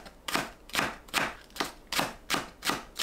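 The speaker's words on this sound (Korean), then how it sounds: "파를 작게 썰어주세요." A knife chops green onions into small pieces on a cutting board in seven crisp, evenly spaced strokes, close and clear, with no talking.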